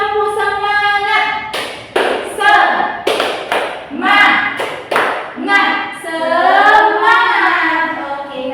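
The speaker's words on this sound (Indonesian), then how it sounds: "Kita tepuk semangat dulu. Tepuk semangat." A class chants loudly together in a rhythmic 'tepuk semangat' clapping routine, sung voices punctuated by sets of firm, close hand claps at regular beats.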